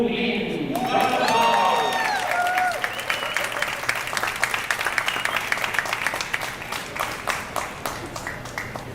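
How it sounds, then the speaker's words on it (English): A crowd applauds mixed doubles billiards champions at an invitational event in Puerto Rico. The clapping starts under an announcer's voice, then thins into scattered, close handclaps that fade slowly. "Please, another round of applause for our champions."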